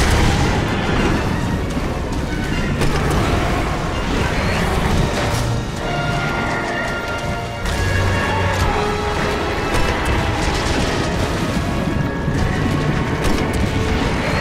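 Gunfire and explosions pound away in Resident Evil 6, a loud and nearly unbroken barrage of booms, crashes and shots with a mechanical clatter mixed in, and little let-up throughout.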